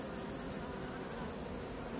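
Guard honeybees buzz at their hive entrance, checking for robber bees from neighbouring hives; a steady, dense, faint hum of many wings fills the whole stretch, close by and without voices.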